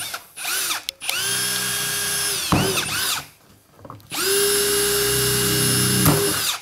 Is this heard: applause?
no